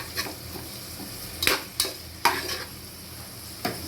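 Onions frying in oil for Tamil puli kolambu, a low, steady sizzle broken by a few distinct scraping stirs of a spoon in the pan, no talking.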